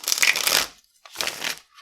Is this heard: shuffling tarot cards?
yes